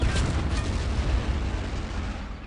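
Tank cannon fire in the World War II shooter Battlefield 1942 on the Caen map, a heavy, continuous low rumble of booming blasts that fills the whole moment loudly with no voices.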